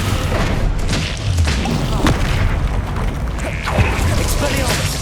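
The Descendo spell in Hogwarts Legacy slams a target to the ground, producing a heavy boom and mechanical creaking thuds amid dense, loud game effects.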